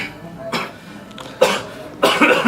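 A person imitates the cough of a rich person, giving three short, separate throaty coughs spaced about a second apart, close and alone with no talk.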